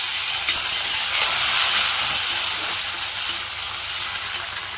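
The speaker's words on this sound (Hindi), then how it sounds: "अब इसी में हम टमाटर डाल देंगे।" Tomatoes dropped into onions fried until red, a bright hissing sizzle that flares then slowly settles, close and steady with no one talking.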